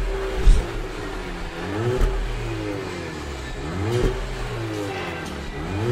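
Audi A4 1.8T with a CVT and an aftermarket sports exhaust revving close by, its engine note rising and falling in repeated swells over a steady loud idle, with a sharp low thump near the start.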